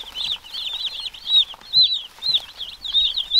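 Seventy two-day-old chicks in a brooder, a dense continuous chorus of high peeping and cheeping, close and fairly loud, with faint scuffling underneath.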